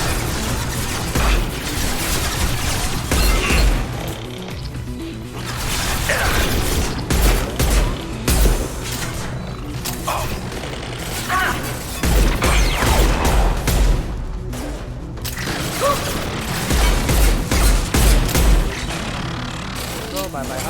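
Heavy pistol fire in the video game Mass Effect 2, repeated sharp shots and clattering impacts mixed with game effects, heard under someone talking throughout.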